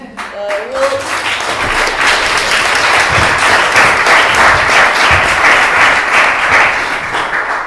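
A crowd applauds steadily, dense clapping filling the room at a loud, even level throughout, with a brief voice at the very start.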